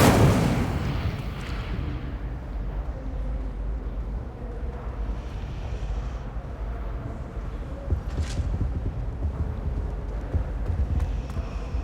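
Incendio fire spell cast in Hogwarts Legacy, a loud burst of roaring flame at the start that settles into a continuous rumbling crackle with scattered sharper hits.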